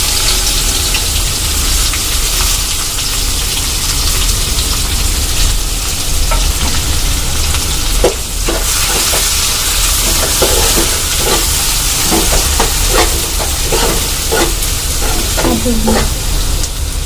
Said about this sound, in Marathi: कांदा व्यवस्थित परतायचा आहे आपल्याला